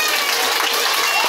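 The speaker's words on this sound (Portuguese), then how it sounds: "Uma salva de palmas, pessoal." Audience applause at a live performance by a travelling comedy troupe, a dense, steady wash of clapping filling the whole moment at close, loud level.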